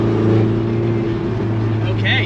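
A Ferrari 488 engine drones loud and steady from inside the car as it accelerates in automatic mode, a continuous low growl with a slight shift in pitch near the end.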